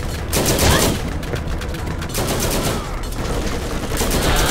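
Rapid automatic gunfire from the Borderlands co-op shooter game, dense and continuous bursts layered over one another at steady loudness for the whole stretch, with no talking.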